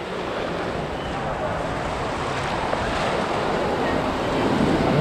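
Big sea waves crash continuously at a beach while strong wind roars across the microphone, a dense loud wash of surf with no clear speech.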